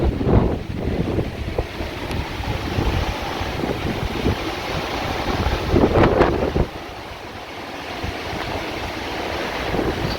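Strong Hurricane Sally wind gusts tear through trees, a loud, ragged roar of rushing air and thrashing foliage that swells and buffets for several seconds, then drops to a steadier, lower rush.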